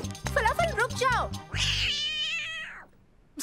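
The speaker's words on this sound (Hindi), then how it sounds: "सच में बहुत ही बदमाश बिल्ली हो।" A cartoon cat meows in a children's animated adventure, a few stretched, bending cries over a backing tune, followed by a longer wavering yowl that fades out.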